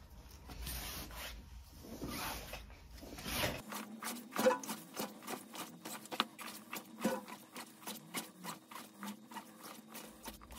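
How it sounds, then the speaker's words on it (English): Rope of a LifeSling being shoved into its bag in a zigzag motion, giving rapid repeated rubbing and rustling strokes in a steady rhythm, close and fairly quiet, preceded by a few slower fabric scrapes. "you want to shove the rest of the sling in there in a zigzag motion"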